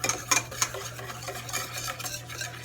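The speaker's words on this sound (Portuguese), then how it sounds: "Vamos misturar aqui bem." Bread dough mixture being stirred for blender bread, a steady scraping and sloshing with a few louder clinks near the start, close and alone with no talk.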